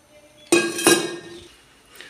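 Metal cooking pots and utensils clink while kheer simmers on a low gas flame in a village kitchen: two sharp, close clanks about half a second apart, each ringing briefly before fading, with no talk.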